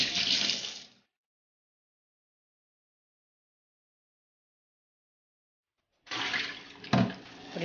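Running cold tap water splashes briefly over a green chili pepper, stops for several seconds of silence, then flows again with a small clatter.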